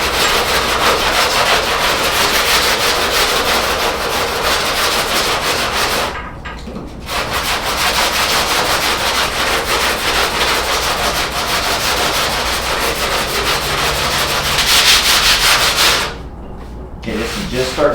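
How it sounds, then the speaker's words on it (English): Close, loud sanding of body filler on a car deck lid with 80 grit sandpaper, continuous rasping strokes that pause briefly twice before resuming. "so we're going to feather it out with some 80 grit"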